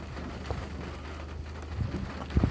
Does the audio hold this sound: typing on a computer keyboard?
no